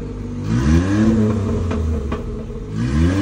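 A Suzuki Khyber engine revs up and settles in steady, swelling surges, close and loud, with a couple of faint sharp exhaust pops partway through.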